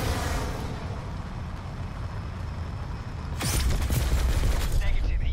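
Missile strikes and heavy gunfire from a Hellstorm scorestreak in Black Ops 4 Hardpoint, a steady rumbling barrage that bursts into louder crackling impacts partway through, with voices talking over it.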